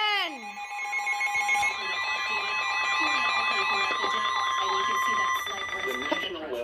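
A National Weather Service tornado warning emergency alert tone for north central Livingston County, Illinois: loud, steady two-tone warbling alarm that sounds continuously for several seconds, with a brief burst of other sound at the start.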